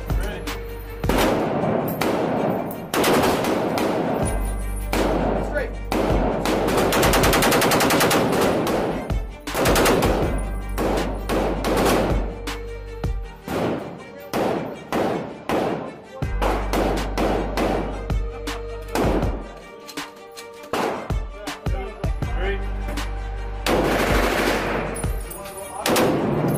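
Large-calibre machine gun firing at a shooting range in Las Vegas, loud close bursts and long rattling strings of rounds one after another, with brief pauses and occasional voices between volleys.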